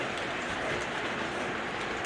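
An O gauge model train runs along a home layout toward its station, a steady close rolling rumble with faint rail clatter and no pauses throughout.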